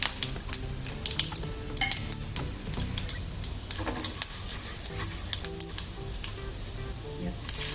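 Urad and chana dal with mustard seeds and asafoetida sizzle and crackle in hot oil for an instant masala dosa filling, a steady close frying hiss with occasional pops and utensil clinks as it is stirred.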